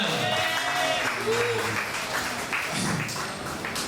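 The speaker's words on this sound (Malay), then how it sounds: "Beri tepukan untuk Encik Megat." An audience claps steadily and continuously for several seconds at a Malaysian event, a dense, moderately loud wash of applause with a faint tonal hum underneath.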